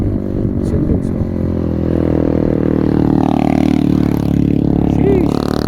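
A motorcycle with a steady engine drone rides past close by on a street, loud and continuous, with a voice talking over it.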